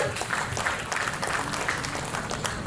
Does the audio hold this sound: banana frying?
no